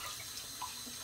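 Tap water runs steadily into a sink while dishes are rinsed at home, a continuous close splashing wash with no voices.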